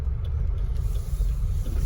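A Peugeot 406 sedan being driven on a road, heard from inside as a steady low engine and road rumble that stays continuous throughout, with no voices.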